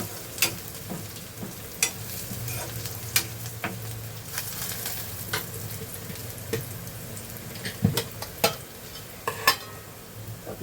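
Onion frying in a pan in a small home kitchen, with a soft continuous sizzle broken by scattered sharp clicks and scrapes as it is stirred, fairly quiet and with no voices.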